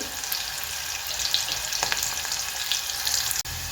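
Onions and spices frying in a pan over high heat for a chilapi fish curry, a continuous close sizzle with a few soft stirring scrapes.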